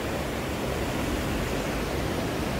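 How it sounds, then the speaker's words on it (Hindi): A stream's water rushes in a constant broadband roar, steady and fairly close with no other sounds. "पानी का साउंड"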